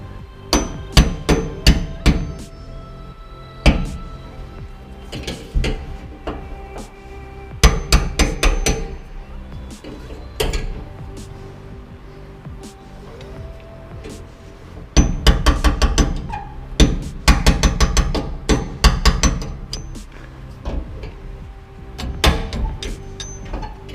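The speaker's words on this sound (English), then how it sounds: "Go ahead and hit the tabs counterclockwise, and it should slide it up until this gap right here is lined up with this gap" Repeated hammer blows drive the tabs of a fuel tank lock ring counterclockwise during a Holley Sniper EFI fuel system install on a big block Chevy C20, sharp metallic strikes coming in quick bursts with pauses between, close and loud, no talking.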